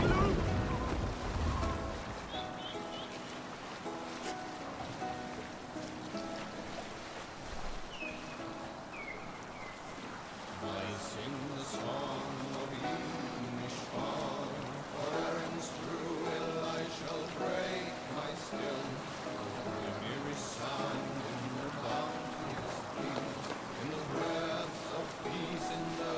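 A sailing ship moves across the sea in Assassin's Creed Valhalla, with wind and waves washing steadily beneath a swelling orchestral game score that plays throughout.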